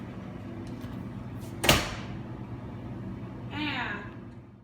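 The door of a Rational combi-oven swings shut with a single sharp clunk over a steady low background hum, followed shortly by a brief faint rustle.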